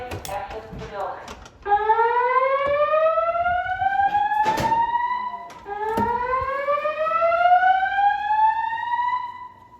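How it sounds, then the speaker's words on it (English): A Notifier NFS2-3030 fire alarm panel sounds its alarm tone with DVC voice evacuation, sweeping upward whoops repeating loudly about every four seconds, mixed with a recorded voice announcement. "There has been a fire alarm reported in the building."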